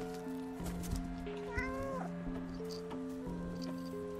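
A cat's meow in the video game Stray, with a single clear, slightly drawn-out meow rising and falling at close range over a steady tonal music bed.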